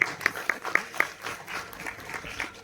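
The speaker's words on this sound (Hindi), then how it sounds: "तालियां।" A school quiz audience claps briefly after a correct answer, a short burst of sharp claps in quick rhythm fading into a softer scatter of applause, indoors and moderately near.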